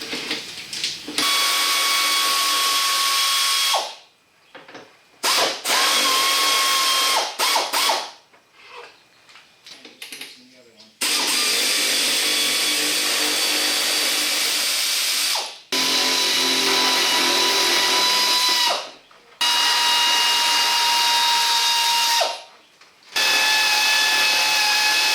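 Power tool driving out the front fender bolts on a GMC Sierra, running in several long, loud bursts broken by short pauses and lighter mechanical clatter, close to the mic with no talk.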